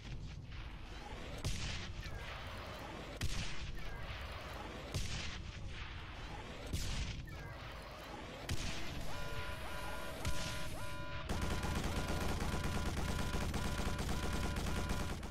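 Incoming missiles slam down in Quake 4, a series of heavy booming explosions about every two seconds, followed by a dense, continuous roar of blasts and clatter with no pause.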